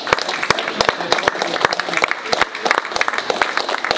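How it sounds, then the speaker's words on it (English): A small town hall audience claps for a state legislator, with sharp, distinct individual claps from a modest crowd ringing out close by in an uneven rhythm throughout. "give Melissa a round of applause for everything she's done for us."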